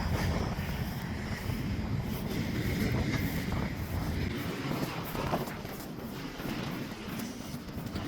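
An intermodal freight train rolling through Fostoria, Ohio, a steady low rumble and rattle of cars passing at a distance, continuous and unbroken with some wind noise.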